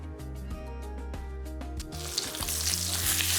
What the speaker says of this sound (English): we're gonna put our steak right there. And we're gonna sear for 3 minutes aside.